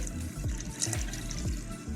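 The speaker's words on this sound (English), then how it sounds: "I'm gonna pour all of the chicken broth in there" Chicken broth pours steadily into a blender with a gurgling, sloshing flow, close and continuous for the whole stretch, no voices.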